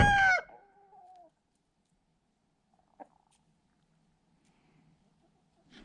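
A rooster on an off-grid Montana homestead lets out a single loud crow at the start, its call falling away, followed by quiet farmyard ambience with a faint knock.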